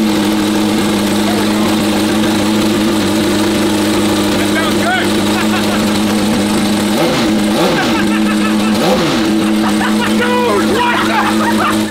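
A flood-damaged McLaren P1 engine runs at a steady, loud idle with a constant low hum and brief rises in pitch, while people talk over it.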